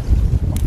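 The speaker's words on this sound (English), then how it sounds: "Oh, windy." A short burst of strong wind hits the microphone outdoors by the water, a loud low rumbling buffet.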